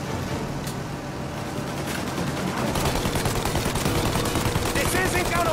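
Sustained gunfire aimed at a plane's engines during a shootout in Mafia: Definitive Edition, dense rapid bursts growing heavier midway, loud and continuous with voices mixed in.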